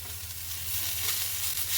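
Grated potato and chopped coriander leaves are stirred in a frying pan, a soft, steady sizzle with a faint low hum, close and fairly quiet over a brief moment.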